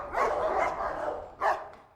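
Dogs bark at an animal rescue centre when a new dog is brought in to meet them. Dense, mid-distance barking fills the first second, then after a short lull comes a single louder bark.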